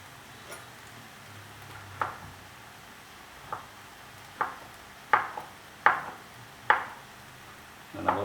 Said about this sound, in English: Just gonna chop these very roughly.